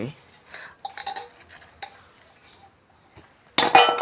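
Masala being stirred into manchurian in a pot, with scattered scraping and clinking of a utensil against metal, growing louder and busier toward the end.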